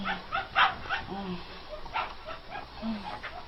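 A dog barks and yips in short bursts, mixed with people talking and laughing nearby.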